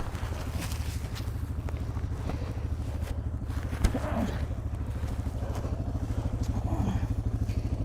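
A Suzuki DR650 dual-sport motorcycle sits idling in gear after a tumble on a dirt trail, its single-cylinder engine thumping in a steady, rapid, close rhythm with a light clatter partway through.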